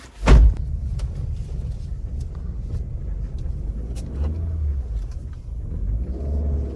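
A car being driven, probably an automatic, makes a steady low engine and road rumble. A loud thump near the start could be a door. Faint clicks and knocks sound through the drive, and no one speaks.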